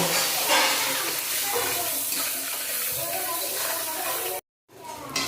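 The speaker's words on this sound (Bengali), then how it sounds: "মাছের তেলটা সুন্দর ভাজা ভাজা করে নিয়েছি ভাজা ভাজা হয়েছে" Fish oil sizzling in a pan with onion, chili and garlic, a steady close frying hiss and crackle that cuts out briefly near the end before resuming.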